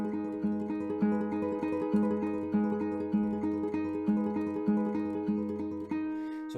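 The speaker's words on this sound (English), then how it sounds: "the arpeggio sounds something like this" Guitar arpeggio pattern for a song, repeating plucked notes in a steady looping rhythm, clear, moderately quiet and alone.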